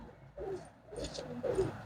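Domestic flying pigeons coo close by in a short series of soft, throaty calls, with brief rustling between them.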